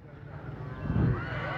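A mare at a horse market gives a short neigh partway through, rising over the crowd noise while someone talks nearby.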